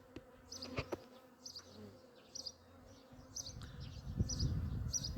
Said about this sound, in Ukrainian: Бджілки багато, це розвідка, це не, не є рій.